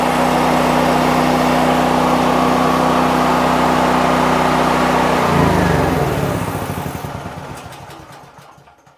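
A Harbor Freight Predator 9000 watt gas generator engine runs loud and steady indoors, then shuts off and winds down over the last few seconds to silence.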